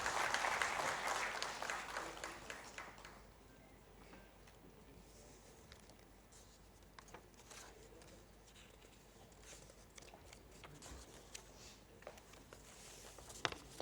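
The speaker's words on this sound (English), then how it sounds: "May I have the big round of applause for them?" A crowd claps at first, then the applause thins to scattered claps and faint rustling before a few sharp taps at the end.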